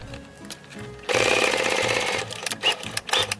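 A sewing machine stitches a half-inch seam on a corset, a loud, rapid mechanical buzz that starts abruptly after a quieter moment, runs steadily for about a second, then breaks into shorter bursts.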